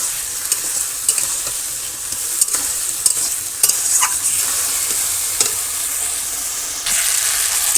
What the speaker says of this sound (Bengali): এবার দিয়ে ভেজে রাখা আলুটা দিয়ে দিলাম, আলুটা দিয়ে একটু কষাবো।